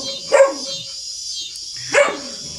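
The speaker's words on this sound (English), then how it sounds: "These dogs just bark and bark and bark." Dogs outdoors bark twice, about a second and a half apart, each bark fairly near and sharp over a steady background hiss.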